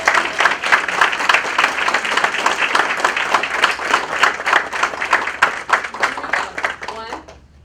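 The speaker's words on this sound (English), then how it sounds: "How about one more round of applause?" A crowd at a school board meeting gives a round of applause, dense, loud, steady clapping close by with voices mixed in, dying away at the end.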